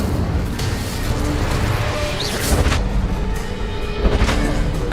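A fire spell cast in Hogwarts Legacy bursts out in loud, rumbling blasts and whooshing flame surges, with dense game combat noise around it and several heavy thuds.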